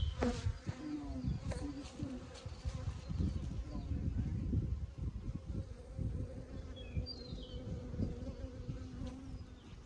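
Honeybees from an opened hive, likely holding 100,000 bees or more, make a dense, continuous buzz close by, with individual insects droning past.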